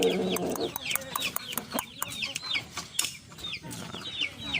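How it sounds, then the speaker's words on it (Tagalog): Chickens cluck and chatter close by in quick, repeated calls, with a rooster among them over a steady farmyard background. "Okay na yung ating tandang."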